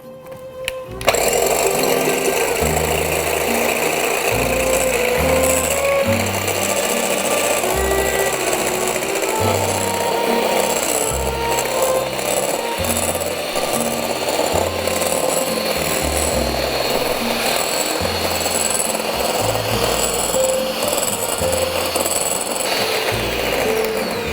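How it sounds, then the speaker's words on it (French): An electric whisk beats egg whites for tiramisu, a loud, close, continuous buzzing whir with a rhythmic rattling texture as the beaters knock around the bowl, running without pause before stopping abruptly. "Comme je suis un grand fainéant, je vais utiliser le fouet électrique."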